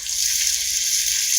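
About two tablespoons of water hit a hot pan of cooking chicken and aloo, giving a continuous loud hissing gush and sizzle that stays steady throughout, with no voices.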